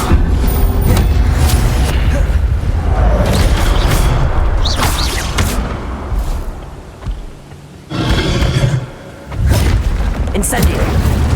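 An Incendio fire spell cast in Hogwarts Legacy sets off a series of heavy booming bursts and rushing roars, loud and close, with brief lulls between blasts.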